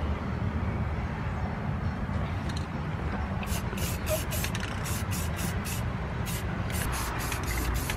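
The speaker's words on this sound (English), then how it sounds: "now I'm gonna spray paint it, make sure that it doesn't rust" A spray paint can sprays metal in a series of short hissing bursts over a steady low background rumble.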